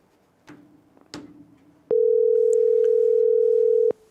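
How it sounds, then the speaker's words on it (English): A telephone dial tone sounds as a loud, steady continuous hum for about two seconds after a couple of faint handset clicks, then cuts off abruptly. "You can hear the dial,"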